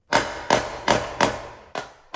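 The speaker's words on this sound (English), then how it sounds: "Take a hammer with a soft edge and strike" Five firm blows from a soft-faced hammer strike a Shimano Hollowtech II bicycle crankset at a steady pace, each a dull clanking thud with a short ring, close by.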